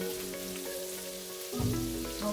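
Garlic sizzles in oil in a pot for a one-pot meal, a faint, steady crackling fry that swells briefly louder near the end of the short stretch, with no talking.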